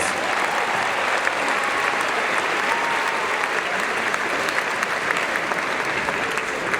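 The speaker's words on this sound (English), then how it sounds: "Please give them another round of applause" Dense, loud applause fills a high school graduation ceremony as the audience honors athletes, a continuous wash of many hands clapping without pause for about seven seconds.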